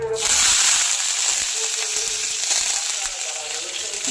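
Mustard seeds and whole cumin sizzle in hot oil as a tempering for a fish dish, a loud, steady crackling hiss with scattered seed pops, close and alone.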